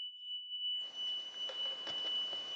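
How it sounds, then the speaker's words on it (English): A steady high-pitched beep from an electronic motorcycle oil pressure tester sounds continuously and faintly, while soft rustling and handling noises join in partway through. "It's beeping because I'm doing the same test as before."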